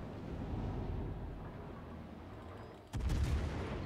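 Heavy naval gunfire in World of Warships, with a low rumbling battle bed building to a sudden loud cannon blast near the end that booms and lingers.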